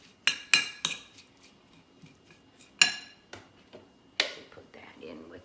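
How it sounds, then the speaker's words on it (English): A utensil clinks and scrapes against a bowl while coleslaw is mixed with Duke's mayonnaise, with a few sharp close taps followed by softer stirring, quiet overall. "Just mix it all up."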